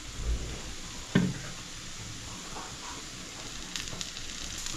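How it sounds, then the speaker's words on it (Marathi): Spinach chila frying in a pan with a little oil added as each is flipped, a steady even sizzle with a couple of soft clicks from the spatula, close and alone. "आता फिरवताना थोडासा तेल टाकायचं त्याच्यावरती"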